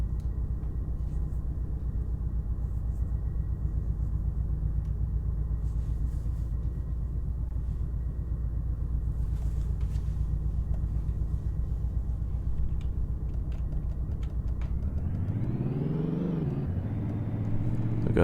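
A video game car drives on auto-drive through traffic, its engine giving a steady low drone. Near the end the engine revs up sharply, then settles back down.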